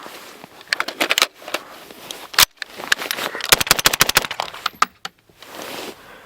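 A rifle firing GP90 Swiss military ammunition in a cold test, sharp close gunshots in irregular bursts and rapid strings, with brief gaps and some mechanical clatter between shots.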